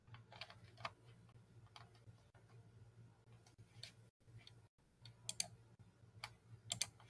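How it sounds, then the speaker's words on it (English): Faint, scattered clicks of typing on a computer keyboard come through a video call, irregular keystrokes over a low steady hum with brief dropouts, no voice audible. "I can hear your typing."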